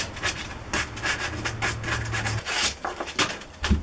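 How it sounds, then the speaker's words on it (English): Hand sanding of a wooden intarsia reindeer made from glued pine boards, heard as a run of close, steady rasping strokes in an irregular rhythm with no talk. "Maybe sand it a little bit."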